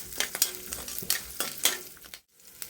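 Around twenty garlic cloves sizzle in hot oil in a pan, with a steady close frying hiss and repeated scraping stirs of a spoon against the metal. A short silent gap interrupts the sound near the end.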